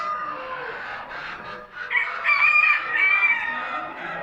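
Show chicken crowing at an ornamental chicken competition in Afyon, a single loud, close drawn-out crow rising and holding before trailing off.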